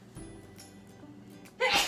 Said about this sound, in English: I sneeze almost every time I use Tony Chachere's.